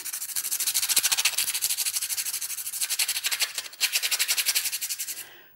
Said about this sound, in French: vous pouvez utiliser un papier comme je l'ai fait, de façon à le poncer, un papier à poncer